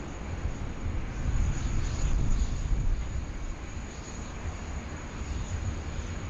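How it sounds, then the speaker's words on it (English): A Jetstar Airbus A320 arrives at Sydney Airport, a steady broad engine roar that swells slightly midway and holds at a distance, with some wind in the background. "Another Jetstar 320 there"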